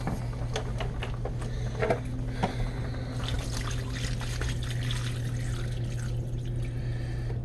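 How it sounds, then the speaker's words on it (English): A steady stream of water pours and trickles continuously into a cooking pot of pigs feet stew over a low background hum, with small clinks and splashes throughout. "Get some more water in there."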